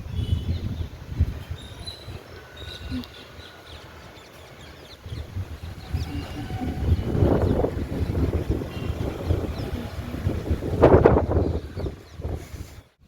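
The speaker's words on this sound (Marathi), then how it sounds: "इतकं सुंदर थंडगार वारा येत आहे" Gusty wind buffets the microphone in a steady low rumble that swells louder toward the end, with faint birds far off and no voices.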